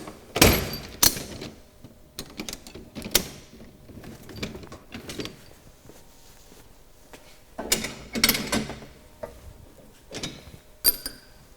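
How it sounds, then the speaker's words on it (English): Mechanical clunks and clicks from releasing the ratchet on a telescopic stainless steel electric drum tipper, a few sharp knocks spaced over several seconds with quieter rattles between, close and fairly loud. "Then we release the ratchet."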